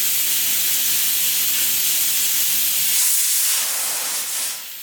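Pressure cooker of rice letting off a loud, steady steam hiss close by, which thins and eases off near the end.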